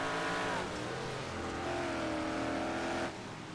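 Dirt-track race cars roar up together at a green-flag start, several engines revving hard and loud with rising pitch, joined by tire noise as the pack accelerates away.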